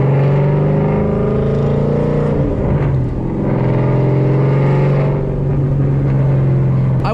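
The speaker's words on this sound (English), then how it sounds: "Just clutch in, nice smooth downshift, give it some gas, clutch in, upshift" A 700HP Mustang with a twin disk clutch roars with a loud, close engine drone whose pitch drops and climbs again through two gear shifts, one around the middle and one later on.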